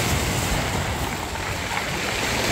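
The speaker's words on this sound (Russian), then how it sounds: "вот и волна пошла" Black Sea waves wash onto the beach at Lazarevskoye near Sochi in a steady, loud surf roar with wind noise on the microphone, close by and without talk.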